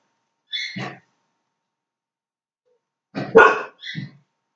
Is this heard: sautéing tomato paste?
no